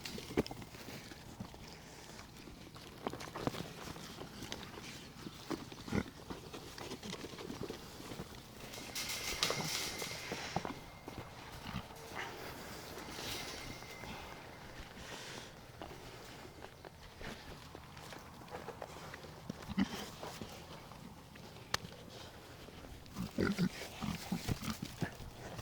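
Pigs on a farm being readied to farrow move about with shuffling footsteps, soft grunts and rustling, faint and close-by in a quiet, noisy barn setting.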